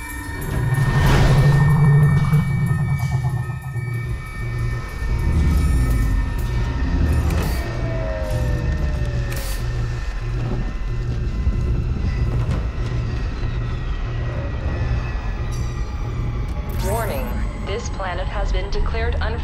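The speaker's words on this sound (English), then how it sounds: "Hopefully you enjoyed our new, smaller, more energy-efficient subway cars." Newer, smaller, energy-efficient subway cars rumble along the rails with a steady rhythmic clatter and a deep, loud drone, while voices speak over the running train.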